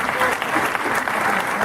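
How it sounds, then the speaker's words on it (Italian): A theatre audience at a Naples sceneggiata finale applauds loudly, dense continuous clapping filling the short clip. "Se mi fate un grande applauso"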